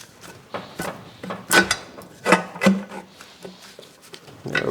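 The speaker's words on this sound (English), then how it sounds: "And now I'm just removing the crankcase breather on this side." Close, scraping and knocking workshop noises as a crankcase breather is worked free from a BMW E31 850i V12 engine, irregular clunks and rubs of metal parts in quick, uneven bursts, no talk.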